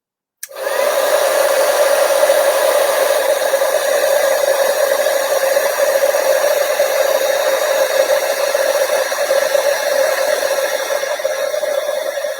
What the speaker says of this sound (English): So this might get just a little bit loud right now because I'm going to heat up this embossing powder.